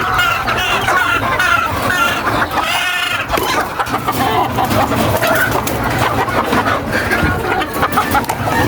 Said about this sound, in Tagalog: Basain yung patuka ng aking mga alagang manok.